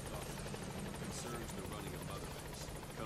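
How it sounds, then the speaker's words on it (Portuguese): A helicopter in the video game Metal Gear Solid V: The Phantom Pain chops loudly and continuously with rapid rotor thumping and a broad engine roar, with voices faintly beneath. "O helicóptero vai embora."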